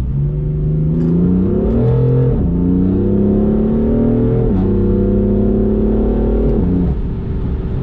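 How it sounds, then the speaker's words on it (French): A powerful BMW M4 engine in Sport Plus mode revs up and down repeatedly, its pitch climbing and dropping in loud, close surges. "un petit Sport Plus, histoire d'entendre un petit peu le moteur"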